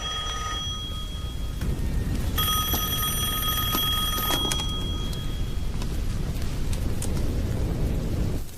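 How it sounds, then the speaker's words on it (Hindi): A telephone rings in a tense scene from a Hindi action film: a bright electronic ringing pattern cuts in partway through and repeats for a couple of seconds over steady, rumbling background ambience. "वो फोन है।"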